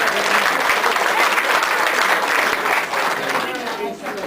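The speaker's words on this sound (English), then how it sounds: "How about a round of applause for Jane and for Rodney?" An audience gives Jane and Rodney a round of applause at a storytelling talk. Dense, loud clapping fills the room continuously and fades slightly near the end.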